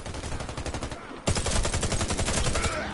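Rapid bursts of automatic gunfire in a shooter video game, a steady rattling stream of shots with a brief gap before a louder, denser volley resumes, close and continuous.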